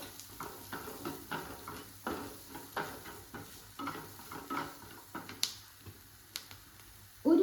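Onions and turmeric powder stirred in a frying pan for a fish curry, a soft sizzle with a steady run of spoon scrapes and clicks, close and fairly quiet, with no talking.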